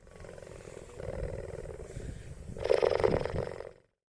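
A cheetah's low, rough growl rumbles steadily, swelling into a louder snarling roar near the end before cutting off.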